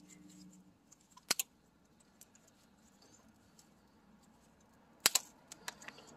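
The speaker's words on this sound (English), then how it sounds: "I'm gonna cut this the Z wrap." A zip tie is cut during a cooling upgrade install on a Corvette C5, giving two sharp, close snips, one early and one later, in an otherwise quiet space.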